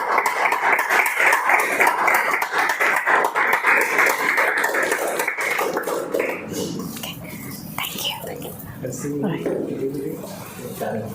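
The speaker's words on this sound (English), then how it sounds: "Big round of applause to Toastmaster Hiran." Applause for a Toastmaster at a Toastmasters club meeting celebrating its 175th milestone, a dense steady patter of clapping for several seconds that thins out, with talk and cheering over the tail.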